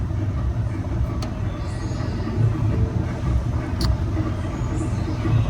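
A 2019 3-ton Arcoaire heat pump runs outdoors on a hot day, giving a steady low mechanical hum and rumble at close range, with a couple of faint brief clicks over it.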